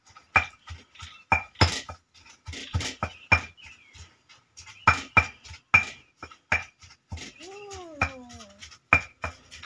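Fish meat being pounded in a mortar for Thai curry paste for khanom jeen nam ya pa, sharp, irregular thuds and clinks of the pestle repeating close by, with a brief whining sound partway through.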